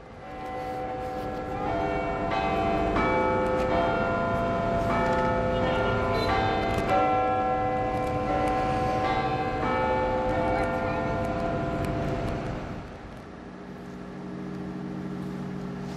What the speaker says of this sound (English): The British Parliament's Big Ben bell sounded the hour for the last time on Monday